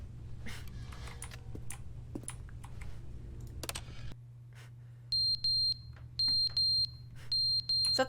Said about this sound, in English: Is that the alarm clock?